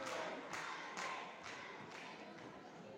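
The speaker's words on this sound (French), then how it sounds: "Ils avaient l'air d'applaudir un peu plus Axel Triodi" Crowd applause for wrestler Axel Triodi at a wrestling show, a steady wash of clapping with a few louder bursts at regular intervals, moderately distant and continuous throughout.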